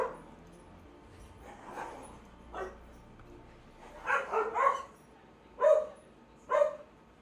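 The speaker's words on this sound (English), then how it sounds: "my dogs are going crazy" Pet dogs indoors barking and yipping in scattered bursts, several sharp barks grouped near the end over a quiet room background.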